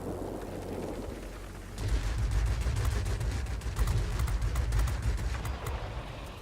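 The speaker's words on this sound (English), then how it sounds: "Those cannons are amazing." Rapid bursts of heavy video game cannon fire thunder loudly and continuously after a short quieter lead-in, booming shots overlapping in a dense barrage.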